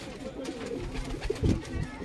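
Pigeons in a loft coo softly among several birds, with low rolling calls rising near the end over faint background noise and no talk.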